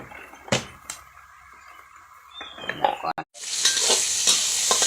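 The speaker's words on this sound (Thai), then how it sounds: "จะผัดใส่ผักนะคะ มีผักกดก็มีเห็ดเนาะพี่น้องเนาะ" Vegetables and mushrooms are stir-fried with sliced pork belly and a splash of seasoning sauce in a pan. Quiet scraping and a couple of knocks open the clip, then a loud, steady sizzle bursts up and holds as ingredients hit the hot oil.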